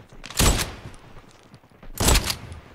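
Shotgun fire in Call of Duty Mobile, a video game: two loud, close blasts about a second and a half apart, each with a short tail, and little else between them.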